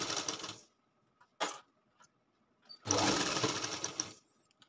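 Sewing machine stitching a katori blouse with lining runs in short bursts: a brief stretch at the start, a quick second burst, then a longer steady run of close, rapid stitching, with quiet pauses between.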